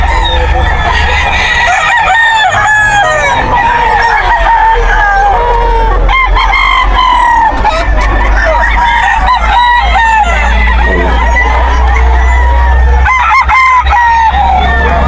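Eight-month-old stags, young roosters at a Bocaue pet market, crow repeatedly and loudly over clucking fowl and busy market chatter, with people talking throughout.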